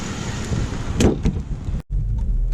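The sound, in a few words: 2018 Jeep JK Wrangler setting off driving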